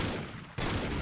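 Gunfire in a video game as the player shoots teleport fuel barrels to get health, a dense burst of loud shots with a brief gap midway, then continuous firing resumes.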